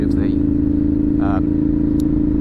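A 2010 Ducati Monster 696 motorcycle engine runs up close with a steady, throbbing idle rumble, and brief voices break in over it.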